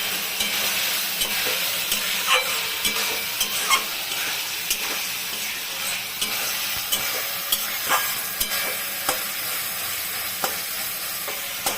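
Spicy prawn and potato curry being stirred in a pan, with a steady sizzle and scattered scraping clicks of the spoon against the metal, close and moderately loud, no talking.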